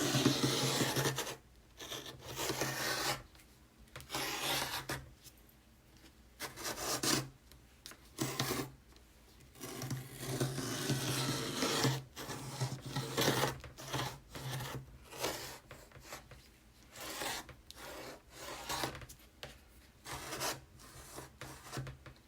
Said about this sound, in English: once you cut with green blade, then we're gonna cut with red blade